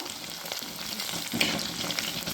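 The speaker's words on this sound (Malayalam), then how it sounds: "ഇത് ജസ്റ്റ് ഒന്ന് നമ്മൾ വഴറ്റിയെടുത്തിട്ടുണ്ട്" Green chilies sauté in hot oil in a pan for Kerala-style fish mappas, a soft continuous sizzle close by with occasional stirring scrapes, no voices.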